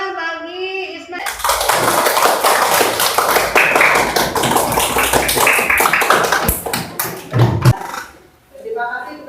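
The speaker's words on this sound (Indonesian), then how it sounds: "tepuk tangan bagi Ismail" Students clap for a classmate named Ismail in a classroom lesson, a dense patter of hands lasting several seconds before fading, with a teacher's voice briefly before and after.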